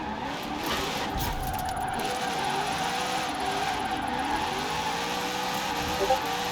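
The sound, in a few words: car drifting in Forza Horizon video game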